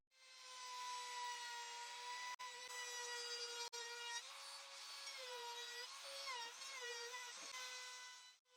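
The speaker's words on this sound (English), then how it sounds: "A 45-degree bevel is created on all edges using the router and a specialized bit." A router fitted with a bevel bit cuts a 45-degree bevel along the edges of cheap wood. It makes a continuous high, whining cutting sound with a shifting pitch and two brief breaks, close and loud throughout.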